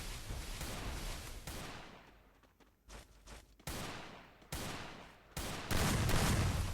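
Gunfire in a Free Fire custom-room match, including a USP pistol: sharp shots ring out in several separate bursts, some in rapid volleys, with quieter pauses between them.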